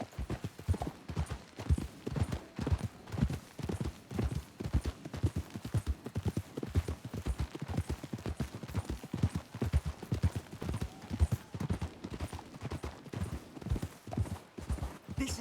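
Horses clip-clop along at a walk in Red Dead Redemption 2, a continuous, even rhythm of hoof falls on hard ground that is moderately faint and stays alone throughout.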